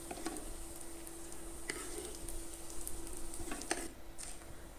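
Chopped pistachios and almonds frying in ghee in a pan, a soft, steady sizzle with occasional light clicks of a spoon stirring, close but quiet and continuous throughout.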